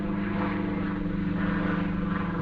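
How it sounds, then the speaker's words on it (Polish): A steady private helicopter engine drone overhead with a low rotor throb, continuous and fairly close, no talking. "W każdym razie prywatny helikopter."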